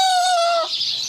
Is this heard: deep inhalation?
no